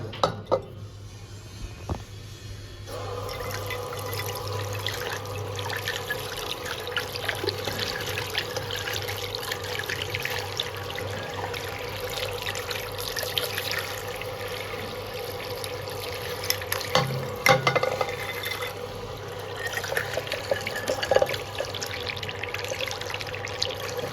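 Water filling a container for a houseplant, a steady running and trickling stream that continues close by for the whole stretch, with occasional small knocks over it.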